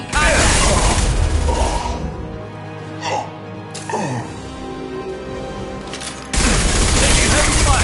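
Heavy gunfire in a firefight in the video game Mass Effect 2: dense, loud bursts of automatic fire and booms that ease into quieter sporadic shots and mechanical clatter, then surge back to a full barrage at the end.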